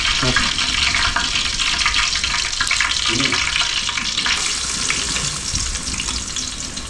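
Onions frying in a pan for a home-style boti fry, a loud, dense, continuous sizzle close by with no pauses.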